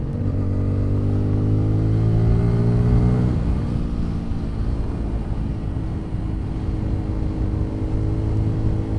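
A Bajaj Pulsar N250 motorcycle engine on a test ride, a loud steady drone whose pitch climbs at first, then settles into a rough even run with wind rush, no talking.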